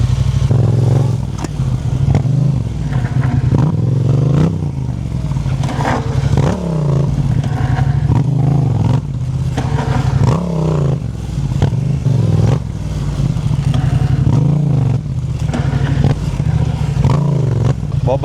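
A Yamaha MT-07 motorcycle practising rear-wheel skids, with close, loud engine revs rising and falling, clattering and scraping bursts as the tyre slides, repeated in rough cycles without speech.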